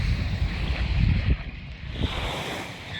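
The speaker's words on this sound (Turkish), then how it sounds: "Şu anda sahile geldim." Wind buffets the microphone in a loud rumbling roar on a beach at Pattaya, Thailand, with waves washing in the background and no talking.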